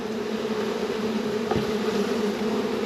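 Honey bees fanning at the entrance of a hive make a steady, close buzzing drone that holds without a break, with one brief soft knock partway through.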